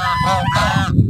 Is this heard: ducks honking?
yes